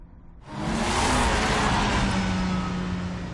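A car engine revving up in a Batman video game, rising from a quiet start into a loud, sustained roar with a steady hum underneath.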